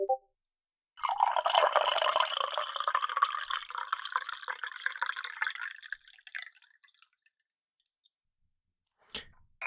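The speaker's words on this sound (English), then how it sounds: "Have some coffee pouring ASMR." Coffee pours from a work thermos in a long, close liquid stream lasting several seconds, gurgling and splashing before trailing off into a few drips, followed by a faint clunk; no speech.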